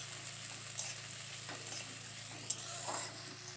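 Thin-sliced onions fry in hot mustard oil in a wok with a soft, steady sizzle, quiet and close, broken by a few faint stirring clinks.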